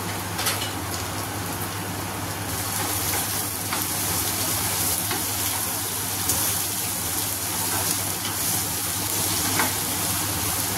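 Tomato frying in a kadai hisses in a loud, steady, dense sizzle that stays close and unbroken throughout, like heavy rain on a surface, with faint low kitchen hum beneath.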